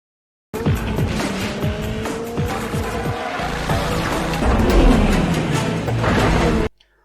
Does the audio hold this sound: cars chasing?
yes